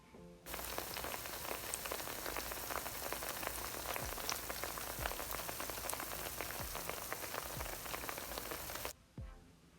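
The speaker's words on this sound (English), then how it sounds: "give them a little bit more frying" Plantain slices frying in hot oil, a faint, steady crackling sizzle with dense popping bubbles that runs continuously for several seconds before cutting off, no voices.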